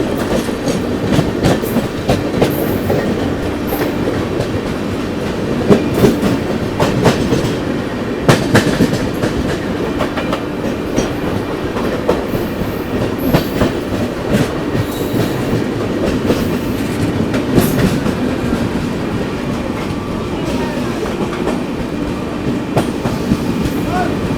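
The Amrit Bharat Express runs along the main line while overtaking the Kanpur–New Delhi Shatabdi, giving a loud, steady rumble with rhythmic clickety-clack of wheels over rail joints and occasional sharper knocks throughout.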